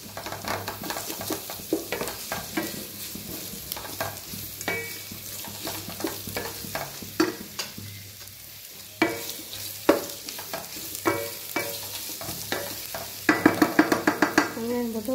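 Onions frying and being stirred in a pan for an egg gravy, close sizzling under repeated scraping strokes of a spoon, with a burst of quick clanks near the end.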